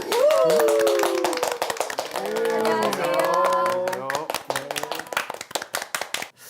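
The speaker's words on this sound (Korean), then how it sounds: "박수!" A studio audience claps to welcome a guest onto a Korean Bible-themed talk show. A burst of many hands sounds close and lively, while voices cheer and talk over it early on and the clapping stays crisp to the end.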